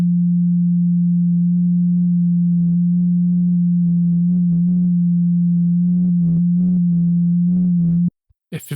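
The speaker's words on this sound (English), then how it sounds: "you probably should have heard that the waveform was actually changing in pitch slightly" A steady synthesizer tone holds a low pitch while its waveform shifts as the phase is rotated, bringing pulsing buzzy overtones and a slight wavering in pitch, loud and continuous before stopping abruptly.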